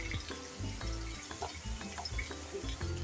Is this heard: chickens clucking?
no